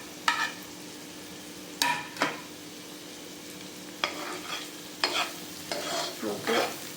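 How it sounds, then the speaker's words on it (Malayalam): A spoon clatters and stirs carrot, capsicum and onion through hot butter in a pan, giving several short scraping strokes over a faint sizzle, close by and with no voices. "നമ്മുടെ ബട്ടറിലേക്ക് ക്യാരറ്റ് അതുപോലെ തന്നെ ക്യാപ്സിക്കോ ഉള്ളി"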